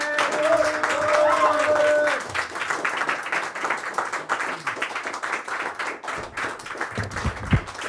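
Audience at a slam poetry tournament in Antibes claps steadily and warmly for several seconds, with a voice audible over the start and the applause thinning toward the end.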